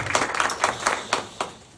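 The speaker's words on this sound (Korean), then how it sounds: "감사의 의미로 우리 박수 한번 밖에까지 드릴 수 있도록" A small audience at a Gwangju public redevelopment residents' briefing gives scattered, uneven claps, about seven distinct hand claps in a loose rhythm, fairly close and moderately loud with no talking.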